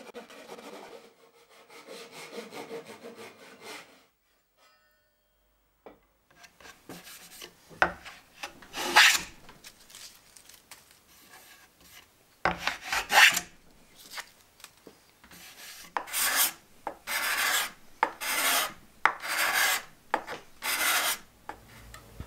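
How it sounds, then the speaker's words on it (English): Hand tools rasping and filing away wood from the back of a one-piece guitar neck and headstock, close scraping strokes that come slowly and sparsely at first, then settle into a faster, regular back-and-forth rhythm. "Here I'm removing the wood at the back of the neck and the headstock"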